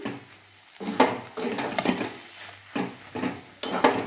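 Potato pieces going into a pan and cooking, with repeated metal clatter of a utensil stirring against the pan and a faint sizzle underneath, in bursts close by.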